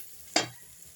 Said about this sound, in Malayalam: ഇതിലേക്ക് നമ്മൾ വെള്ളം ആഡ് ചെയ്യും